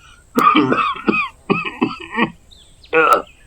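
Several harsh coughs and throat-clearing bursts, close and fairly loud, broken by short pauses and strained voiced sounds.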